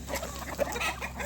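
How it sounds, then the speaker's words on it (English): A large Ayam Cemani chicken clucking close by, a short run of throaty clucks over a noisy outdoor backdrop, with no talking. "it's a big old chicken"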